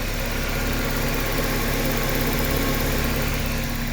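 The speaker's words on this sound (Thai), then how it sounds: "เครื่องยนต์ติดไปแล้ว" A Toyota car engine with automatic transmission idles steadily, a constant low mechanical hum with no voices and no change in pitch throughout.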